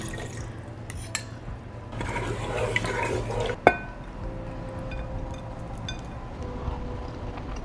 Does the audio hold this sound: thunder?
no